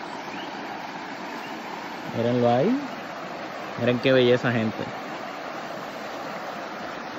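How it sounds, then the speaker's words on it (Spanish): A river flows beside a rental at Hacienda Monterey in Luquillo, Puerto Rico, giving a steady, even rush of water throughout, with someone speaking over it in two short bursts. "Escuchen el río ahí para que se motiven."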